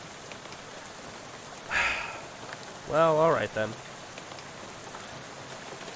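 Steady rain falls through a night scene in the video game Shadows Over Loathing, a constant hiss throughout the clip with two brief spoken voice lines over it.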